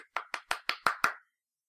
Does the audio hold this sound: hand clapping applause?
yes